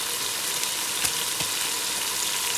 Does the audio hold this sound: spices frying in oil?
yes